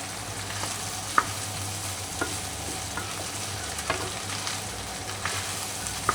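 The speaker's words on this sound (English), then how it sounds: "I still want the onion to be a little crispy, but at the same time little cooked" Onion and chopped meat fry together in a pan for Filipino sisig, a steady broadband sizzle with a few sharp clicks of stirring utensils scattered throughout, close and continuous with no voices.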